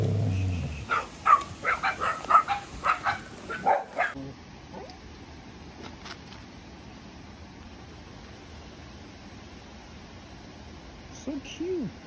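A puppy in Tranan village lets out a quick series of short, close yips and barks in the first few seconds, then goes quiet apart from a faint sound near the end.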